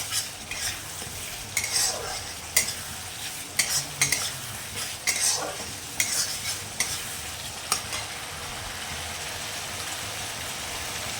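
Spice paste for doi potol (pointed gourd in yogurt gravy) frying in oil in a pan, with a steady close sizzle and repeated scraping stirs of a spoon against the pan, no talking.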